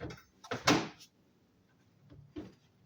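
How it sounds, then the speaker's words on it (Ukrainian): A pet carrier box door is shut with a sharp plastic clack and rattle, then a quieter latch click follows after a pause, up close in a quiet room. "закрив дверцята, все."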